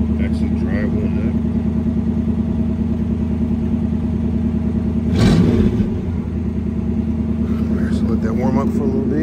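A 1966 Chevrolet Impala wagon engine idles steadily as it warms up, a low continuous rumble close by with a brief louder burst midway, while people talk over it.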